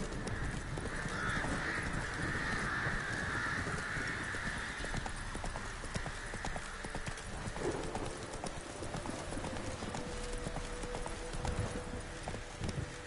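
Horse hooves clip-clopping at a steady gallop in The Witcher 3, a continuous rhythmic drumming carried under a constant bright ambient wash, with brief caw-like bird calls in the background.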